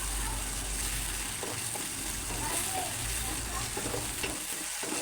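Ginger garlic paste fries in a hot pan with a loud, steady, close hiss and crackle, and soft stirring scrapes come through the sizzle.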